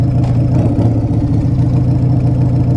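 Carbureted 1994 Harley-Davidson Fat Boy motorcycle engine idling close by, a loud, deep, steady rumble with a lumpy pulsing throb throughout.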